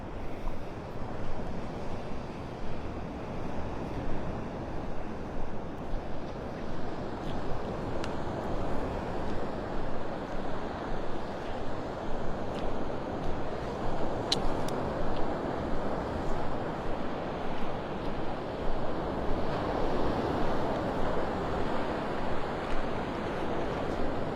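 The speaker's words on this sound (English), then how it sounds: "I love this stretch of beach right here." Steady surf washes in along a quiet, undeveloped stretch of beach at Pelican Bay in North Naples, Florida, a continuous rolling roar of breaking waves with light wind buffeting the microphone and no voices.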